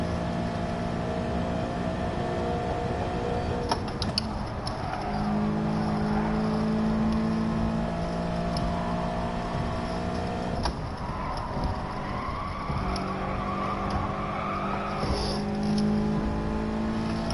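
Race cars in a racing video game drone past with sustained engine whine, pitch rising and shifting as gears change, a steady mid-loud motor tone throughout with no talk.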